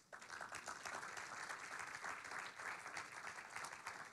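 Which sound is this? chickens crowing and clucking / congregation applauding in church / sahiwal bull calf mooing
congregation applauding in church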